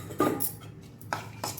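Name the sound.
boiled moong beans being added to a pan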